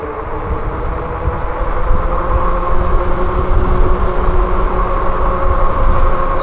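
Kenda tires on a Tesway X7 Pro e-bike coasting downhill without power, giving a steady, loud rolling drone and hum with continuous road and wind noise throughout.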